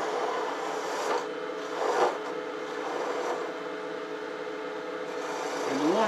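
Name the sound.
wood lathe turning with gouge, reducing wood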